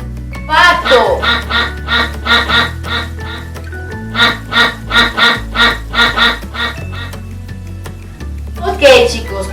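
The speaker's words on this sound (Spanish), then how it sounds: "Pato." A duck quacks in quick repeated bursts, two rapid runs of nasal calls over a background music loop, with a voice speaking briefly at the start and end.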